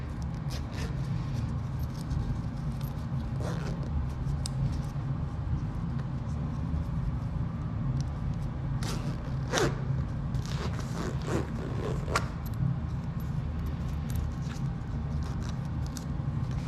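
Soft intermittent scraping and zipping sounds of a zipper on a Katzkin leather rear seat cover in a Duramax truck being worked and tucked in, close and quiet, over a steady low background hum.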